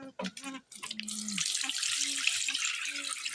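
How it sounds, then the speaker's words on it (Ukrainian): Water splashing and pouring steadily from a watering can into a container for poultry in a village, close by, following a few short spoken words. "тепер буду наливати"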